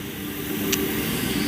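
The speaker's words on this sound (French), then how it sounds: "C'est pour ça que vous entendez un train." At a railway station, a train rumbles at steady volume with a brief hiss partway through.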